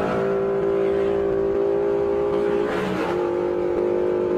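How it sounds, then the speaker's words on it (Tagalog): A car comes toward the rider on the Kabiang Tunnel Road in Maragondon, its engine hum swelling among the steady drone of a big bike's motor. "ito may kotse na parating"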